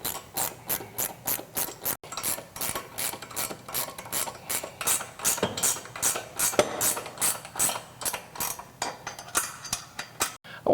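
Ratchet wrenches click in fast repeated bursts as bolts are snugged up evenly on Jeep XJ rocker guards, steady close mechanical ratcheting throughout with no talking.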